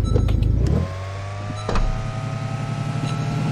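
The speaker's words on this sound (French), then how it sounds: "C'est vrai que le camion fait un peu à bruit de tondeuse." A truck engine in the SCP Secret Files game, buzzing steadily with a loud rough idle that drops briefly, then resumes a lawnmower-like drone.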